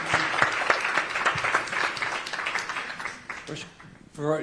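Audience applause for a senator at a conservative summit, with dense clapping that fades out over about three seconds before a voice begins speaking.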